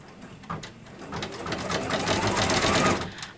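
A home embroidery sewing machine stitching satin ribbon down onto fabric for a pocket project, its fast mechanical whir building up after a brief start and running loud and close to the end.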